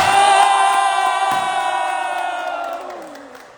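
A crowd greets Sonu Sharma's entrance with loud cheering and whooping, strongest at the start and slowly fading over a few seconds, with no talk over it.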